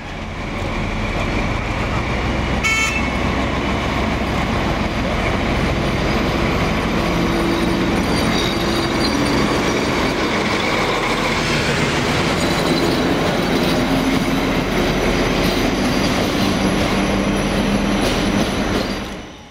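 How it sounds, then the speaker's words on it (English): An SU46 diesel locomotive with passenger train EC248 at Forst station: a loud, steady rail rumble with squealing wheels, metallic ringing and a sharp clank near the start, all continuous and close. "The locomotive comes off the train at Cottbus."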